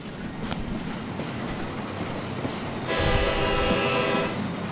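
A train rolls past in Hitman 3, a rumbling rail roar that swells midway with a sustained horn-like tone over steady clatter, fairly close, with no talking.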